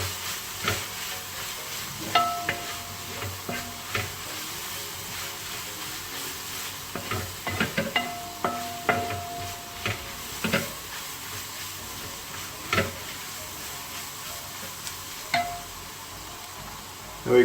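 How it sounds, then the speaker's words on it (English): Coriander powder for Kuttanadan duck curry cooks in a pan under a constant hiss, broken by repeated stirring scrapes and knocks from a spoon. "Just mix it up very well and let the coriander powder cook well."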